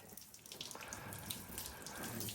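A cookware pan is rinsed under running water, giving a steady, close splashing rush from a tap for a couple of seconds with no talking.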